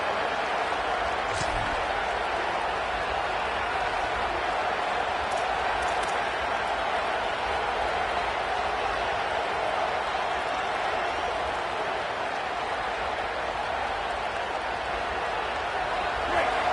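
Stadium crowd noise in an NCAA college football video game, Baylor versus Ohio State, a steady loud roar that holds without a break.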